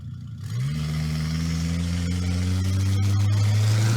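Sherm Vining's 2003 Mercury Marauder drag car at Hot Rod Drag Week, its 4-cam Cobra V8 rising from a low rumble into a steady, loud, deep drone that climbs gradually in pitch as it revs.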